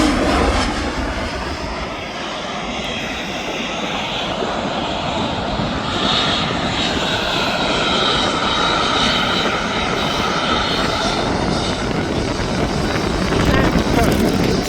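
A Turkish Airlines airliner arriving from Istanbul at Birmingham International Airport roars steadily as a jet engine, a sustained broadband rumble with a shifting whine that holds strong throughout.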